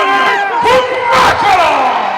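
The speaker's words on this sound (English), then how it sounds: "Give him a round of applause now, Mr. Ivan" A crowd at a deadlift world championship cheers and shouts loudly for a lifter, with overlapping voices rising in bursts and long yells carrying over the din throughout.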